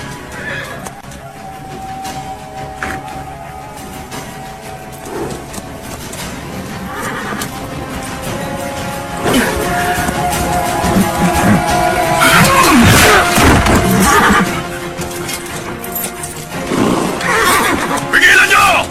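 Horses in a dramatic action scene whinny and neigh repeatedly amid clattering hooves and crowd commotion, loud and busy, with shouts and movement building toward the end.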